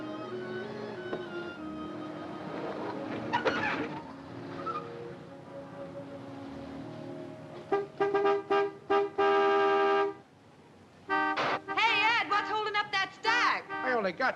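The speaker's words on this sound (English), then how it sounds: "Some horn-happy creep just pulled in. Let him honk." A car horn honks in a run of short and long blasts, some of them sustained, loud and close. Faint talk and background noise come first.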